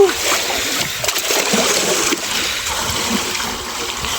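Water from a well pours and splashes into a makeshift swimming pool, a continuous close splatter and slosh with faint voices in the background.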